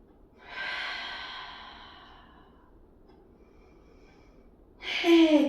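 Breathing during an advanced Pilates exercise: one long, soft breath drawn out and fading over a couple of seconds, then a quiet pause, then a sharper, louder breath near the end, close and with no talking.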